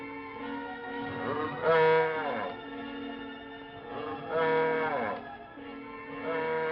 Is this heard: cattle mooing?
yes